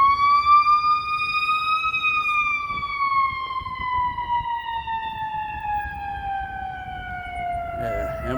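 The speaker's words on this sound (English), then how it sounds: "let me make this ambulance go by." An ambulance siren wails loudly in a long, slowly falling tone as it passes by, with street traffic rumbling underneath.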